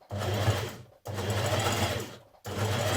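A sewing machine stitches a neckband onto a jersey dress in three bursts of steady whirring, each stopping briefly before the next run, close and clear with no talk.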